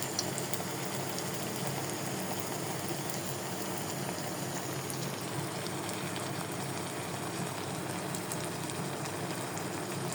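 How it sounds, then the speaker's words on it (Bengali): Pumpkin flower fritters in a turmeric, salt and flour batter frying in oil, giving a soft, continuous bubbling sizzle at a low, even level throughout. "ভেজে নিচ্ছি।"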